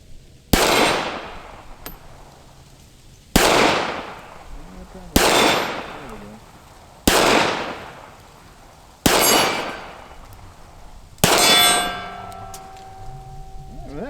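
Six loud, close gunshots from a Ruger LCPII pistol at a range, fired at a steady pace with short pauses between them; the last shot is followed by a ringing metallic clang.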